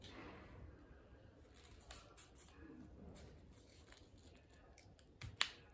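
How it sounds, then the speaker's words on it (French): Scissors cut through paper that is being wrapped for a ritual, giving soft snips with faint background chirps and one sharp, close crisp cut near the end. "Et ensuite, vous allez donc couper."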